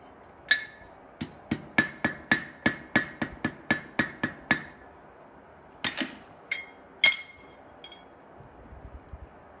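A hammer forges a brass cross: a quick run of about a dozen close, ringing metallic blows, then a short pause and a few scattered strikes before fading to a light shuffle.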